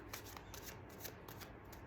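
Tarot cards are shuffled by hand in quick repeated riffles, crisp papery flutters coming in a regular rhythm close by, with no talking over them.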